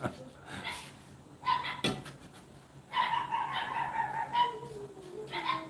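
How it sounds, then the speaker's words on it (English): Several neighboring dogs bark and yip in short irregular bursts a little way off, with brief whimpers between, and a person's voice murmurs faintly beneath them. "That's the neighbor's dogs."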